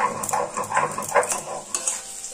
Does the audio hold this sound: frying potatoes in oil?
yes